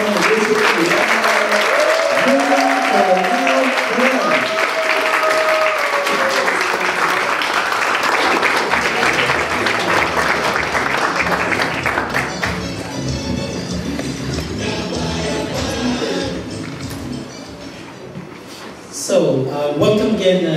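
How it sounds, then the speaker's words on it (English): A talk show audience claps steadily for a long stretch, dense and loud at first, then thinning out and fading near the end. "Ladies and gentlemen, a round of applause for the chief negotiator"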